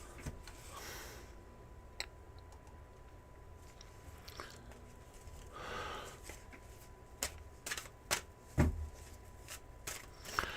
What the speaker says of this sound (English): Let me do a cleansing shuffle.